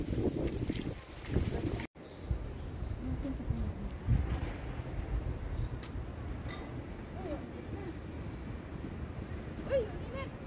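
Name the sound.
strong wind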